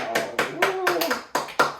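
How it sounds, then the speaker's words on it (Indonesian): A small group claps hands in a few short bursts of irregular taps, fairly close, with background voices in an Indonesian gathering celebrating someone's successful arrival in South Korea. "Tepuk tangan dulu"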